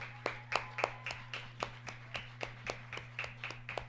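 Fans clap at a high school baseball game as a senior pitcher leaves the mound, a sparse, fairly faint set of individual claps in an uneven rhythm over a steady background hum.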